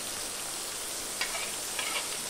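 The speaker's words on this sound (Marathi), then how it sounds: "कांद्याबरोबर सुकट पण आपल्याला फ्राय करून घ्यायची" Dried shrimp (sukat) frying with onion in a pan, a soft, even sizzle with a couple of brief stirring scrapes, fairly quiet and close, no voices.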